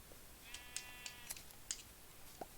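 Sheep bleating in Minecraft, several short bright bleats scattered across a couple of seconds over a faint quiet background, with no talking.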